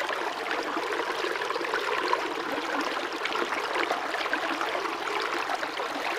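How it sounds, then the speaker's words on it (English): Fast-moving stream water with a small waterfall rushes into a Sawyer dirty-water bag held beneath the flow: a steady, close, broadband splashing and gurgling that carries on alone throughout, with no voices. "You've got some fast moving water and it's got a little bit of a waterfall."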